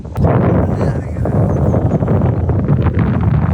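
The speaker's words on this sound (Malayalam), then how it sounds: "നല്ല കാറ്റുണ്ടാ." Strong wind blows over rocky open ground on a trip to Penukonda, a loud, steady rumble of gusts hitting the microphone, with a faint voice mixed in.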